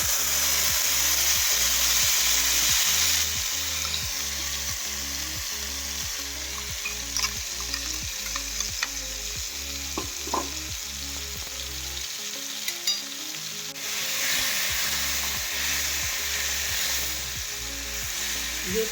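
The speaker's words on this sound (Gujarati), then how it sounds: "હિંગ ઉકળે એટલે આપણે આ લસણવાળી ચટણી જે બનાવેલી છે એને એમાં એડ કરી" Garlic chutney sizzles as it goes into hot oil with asafoetida, a steady frying hiss, with rhythmic stirring or scraping pulses underneath and quieter stretches before the sizzle swells again.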